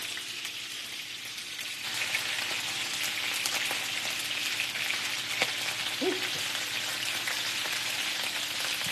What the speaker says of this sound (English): Because this grease acting angry, it's popping too much.